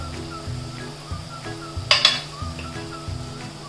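Onion fries in a pan for a jackfruit vegetable dish, a soft steady sizzle close by, broken near the middle by a brief bright clink of a utensil.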